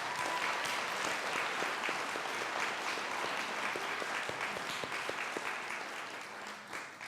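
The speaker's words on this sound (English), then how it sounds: "I just want to give everyone who was out there helping a huge round of applause" Steady applause fills a school assembly, a broad, even patter of many people clapping at moderate distance that fades slightly toward the end.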